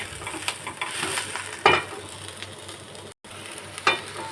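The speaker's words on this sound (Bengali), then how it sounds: "এবার আমি উল্টিয়ে পাল্টিয়ে নেড়ে চেড়ে ভেজে নেব" Drumstick leaves fry in a pan with salt while being turned and stirred, giving a steady close sizzle broken by a few louder scraping stirs, with no talking.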